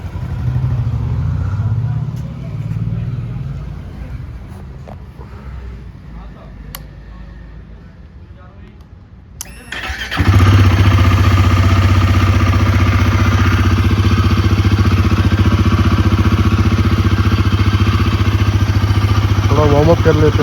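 A new Royal Enfield Himalayan 450 motorcycle engine fires up outdoors on a cold day in Greater Noida, then settles into a loud, steady, close idle after a quieter stretch with faint voices.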